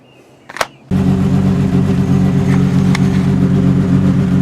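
Jeep Wrangler YJ engine starts after a brief click, then idles loudly and steadily close by with a deep, constant rumble, occasional faint clanks over it.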